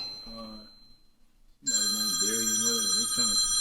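A telephone rings with a steady electronic ringtone, loud and continuous through the second half after a quiet gap, with someone talking at the start.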